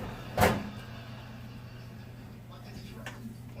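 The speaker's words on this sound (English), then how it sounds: "Open up your drawer, make sure there's nothing on the ledge," A kitchen drawer is opened and closed during cleaning, giving one sharp wooden knock near the start and a fainter one near the end over a steady low room hum.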